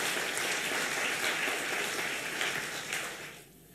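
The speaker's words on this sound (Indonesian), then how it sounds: "Beri tepuk tangan dulu untuk Tuhan kita." Church congregation applauding during an online worship service, a full, steady crowd of clapping hands that holds for several seconds and then quickly fades away.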